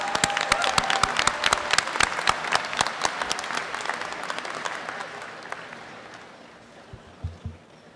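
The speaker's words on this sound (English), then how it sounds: "Let's give a big round of applause to our nuclear engineering graduates this year" Commencement audience applauding nuclear engineering graduates at a Berkeley Engineering ceremony, dense clapping that thins and fades toward the end, with a few stray claps at the close.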